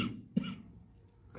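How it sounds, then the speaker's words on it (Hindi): A single short cough, close and sharp, followed by quiet and a faint breath. "खांसी हो गई"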